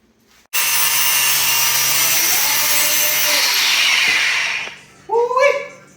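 A power tool cuts into the wheel well of a 2017–2022 Ford F-250, a loud, steady high-pitched grinding whine running for about four seconds before winding down, followed by a short burst of a voice.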